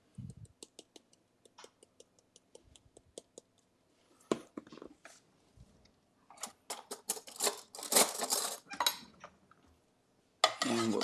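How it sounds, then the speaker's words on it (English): Chicken wings with curry powder being stirred in a pan: quiet rhythmic ticks and scrapes of a utensil, building into clattering metallic stirring and scraping, close and without speech. "And we'll start stirring that up"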